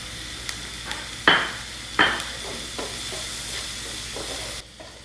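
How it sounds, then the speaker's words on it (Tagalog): Onions sautéing in a pan for kabsa toppings, a soft steady sizzle with a couple of sharper stirring scrapes and clinks against the pan, close and alone without talk. "Ito, nag-agisa ko ng sibuyas."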